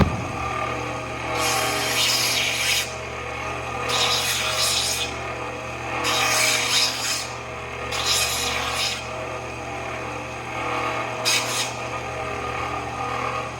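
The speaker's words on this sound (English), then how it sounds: "just a cheap Kalamazoo. It's nothing special, 1-inch wide belt sander that we're gonna take the burr off really quick" A cheap Kalamazoo 1-inch belt sander runs with a steady motor hum while an aluminum motorcycle peg cover is deburred in five repeated gritty grinding passes, each about a second long, up close.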